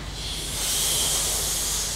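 A voice imitates a cat's hiss during a children's yoga class, giving a steady, breathy hiss that swells and holds for about two seconds, close and fairly loud, with no talking.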